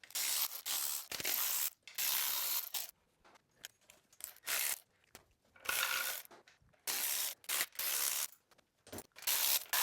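A ratchet wrench runs bolts off a transfer case with repeated rapid pawl clicking, coming in bursts of several seconds with brief gaps, close and clear with no voices.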